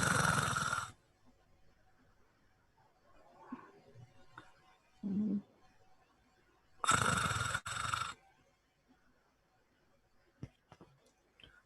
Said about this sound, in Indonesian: Kok ngorok sih?